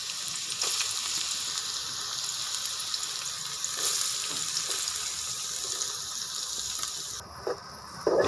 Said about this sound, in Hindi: इसके लिए सबसे पहले घी में प्याज डालेंगे बारीक कटी हुई